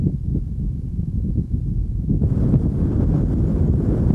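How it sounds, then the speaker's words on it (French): Strong coastal wind in Cape Verde at a windsurfing event buffets the microphone with a loud, rough rumble that grows fuller and hissier partway through. "Ici au Cap-Vert, il y a beaucoup de vent."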